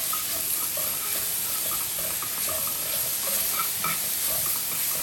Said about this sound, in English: now we're gonna add in our minced garlic